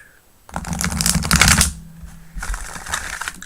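A deck of tarot cards riffled and shuffled close up in two quick bursts, crisp papery flutters separated by a brief lull.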